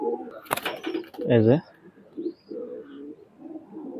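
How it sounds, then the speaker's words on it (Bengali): A Pakistani highflyer Lakha pigeon gives one short, close coo as it is released, while someone talks before and after it. "লাখাটার লাখা মায়া কবুতর, এই যে আমি ছেড়ে দেখাচ্ছি"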